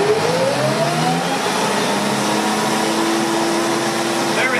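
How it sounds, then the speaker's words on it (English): An electric motor drives a generator through a 10:1 gearbox, whining as its pitch climbs and then holds at a steady high tone, loud and continuous. "the speed of the motor is amplified by 10 times through this gearbox that turns the generator faster"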